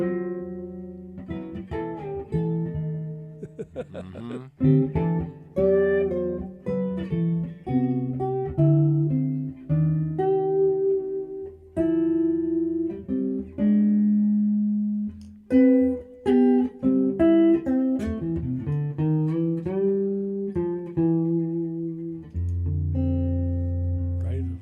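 Guitar played with a mute, a loud run of damped notes and short phrases with uneven gaps between them, ending on a sustained low tone.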